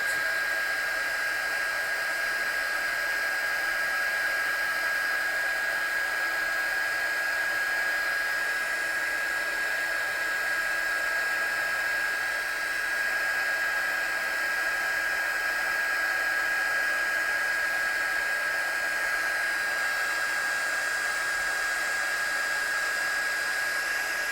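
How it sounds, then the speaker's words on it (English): Heat gun blowing hot air to melt gold embossing powder on stamped watercolour artwork, a steady, loud continuous whoosh with a constant high whine, running unbroken throughout with no talking. "as soon as I think my gun is hot enough, pop it onto my artwork and the powder should instantly change because my gun's hot"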